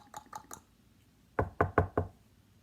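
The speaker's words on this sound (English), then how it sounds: "And so he knocked on the door." Knocking on a door comes as two quick sets: three light raps, a pause, then four louder, heavier knocks in steady rhythm, close and alone.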